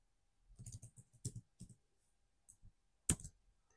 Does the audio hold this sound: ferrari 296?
no